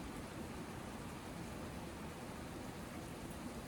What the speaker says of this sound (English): It's like raining. It's pouring.